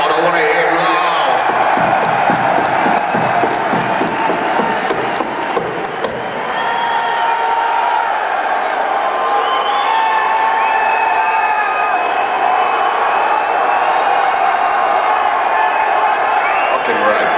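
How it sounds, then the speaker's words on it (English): A large arena concert crowd at a Pantera show in Philadelphia cheers, whoops and claps loudly and continuously, a dense roar with shouting voices rising throughout. "Give yourself a round of applause. I want to hear it loud."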